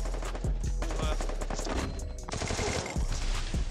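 Rapid bursts of gunfire in an online shooter video game, with sharp automatic shots clustered in quick volleys, some louder and nearer, over game ambience and faint background voice.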